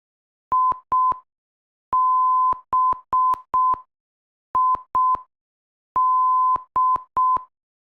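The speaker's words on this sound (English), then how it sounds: "hopefully you heard that Morse code coming through" Steady single-pitched beeps in short and long bursts, spelling out a Morse code identifier from an ILS localizer simulator in clean, evenly spaced groups against silence.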